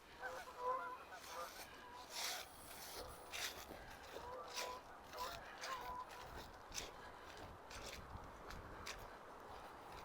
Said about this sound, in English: Oh, there's geese.